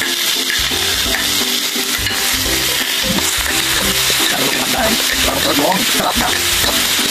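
Tomatoes tumble into a hot frying pan for escabeche, giving a steady, loud sizzle mixed with stirring scrapes and occasional utensil clinks throughout.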